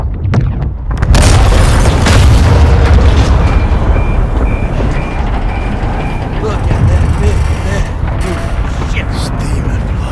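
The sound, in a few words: missile explosion destroying an oil rig in video game Call of Duty Modern Warfare 2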